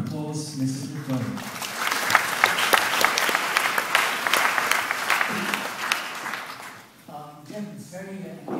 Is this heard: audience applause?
yes